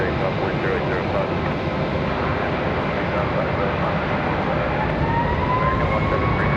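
An airplane takes off from runway 5 right at Raleigh Durham airport, a steady broad roar of engine noise that holds loud and even throughout, with radio talk underneath.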